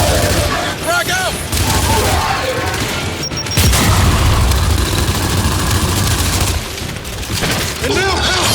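A frag grenade detonates with a heavy, deep boom midway through a noisy Gears 5 firefight, amid continuous gunfire, rumbling engine-like roar and shouted voices.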